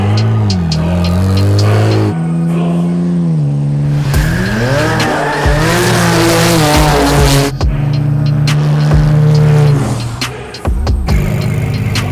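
A twin-turbo 3-litre inline-6 car does a burnout, its engine revving hard and loud while the tires squeal continuously, pitch sweeping up and down over about twelve seconds with a brief dip near the end.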